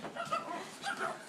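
Puppies whimper and yip at close range in a home during a blizzard, with several short high cries in two bursts and faint background voices.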